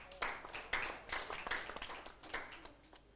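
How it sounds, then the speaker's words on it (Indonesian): A church congregation gives brief applause, a close, uneven patter of many hands clapping for a few seconds before it thins out. "Tepuk tangan buat dia."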